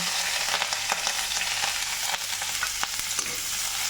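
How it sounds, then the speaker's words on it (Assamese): Onions and green chillies fry in hot oil in a kerahi, giving a steady, dense sizzle throughout with a few faint stirring knocks and no talk. "তেলখিনি গৰম হৈ গৈছে এতিয়া পিঁয়াজ আৰু জলকীয়া দি অকণমান ভাজি"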